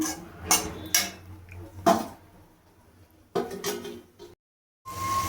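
A pot of potatoes, okra and prawns being covered with a lid while cooking, heard as a few sharp metallic clanks and scrapes spread out over several seconds, separated by quieter gaps and one brief silence.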